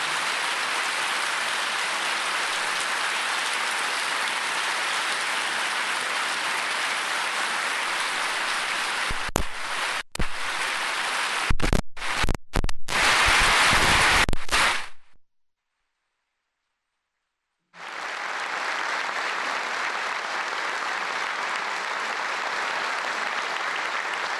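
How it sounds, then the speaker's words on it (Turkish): A large audience at a Turkish presidential candidate's political rally applauds loudly and continuously, breaking into scattered claps, then a few seconds of silence before sustained applause resumes. "bu salonda bugün acısı meydanlarda yuhalatılmış bir anayı burada müsaadenizle alkışlatmak istiyorum"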